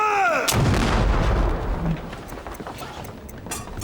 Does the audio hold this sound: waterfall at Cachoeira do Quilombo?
no